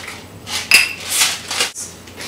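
Sweet potato and Philadelphia cream cheese being mixed in a bowl, a few clinking scrapes and knocks of a utensil against the bowl, close and alone without talk.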